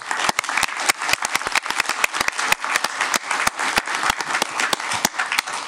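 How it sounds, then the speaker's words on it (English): Audience applause at an elementary school district board meeting: steady, dense clapping from a room of people, sustained evenly for several seconds with no talking over it. "let's give them a big applause"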